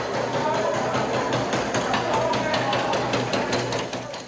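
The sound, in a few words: inmates yelling and screaming in solitary confinement cell block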